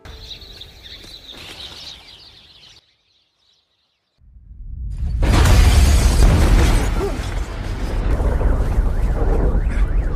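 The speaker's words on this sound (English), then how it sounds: "what is the explosion?" Comet fragments slam into the ocean in a massive explosion, a sudden deep roaring boom that swells after a brief silence and rumbles on loudly; earlier a lighter mixed sound with a high tone precedes the quiet gap.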